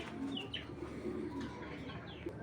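Pigeons of a short-beaked fancy breed cooing steadily, several soft, overlapping low coos repeating close by, with occasional faint chirps in the background.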